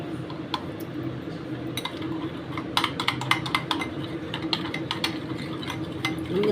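Mango fruit chaat mixture being beaten by hand in a bowl, a steady run of light scraping and clinking strokes against the bowl over a low background hum, with no talking.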